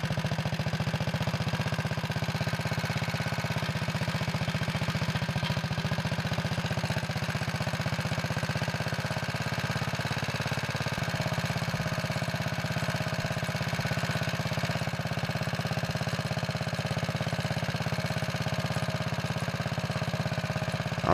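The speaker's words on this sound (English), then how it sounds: "Now I'll set the throttle so it stays running while I get a screwdriver." The Kohler engine on a Wheel Horse Model 401 tractor idles steadily with an even, low chugging throb that keeps going unchanged for about twenty seconds, with no voices.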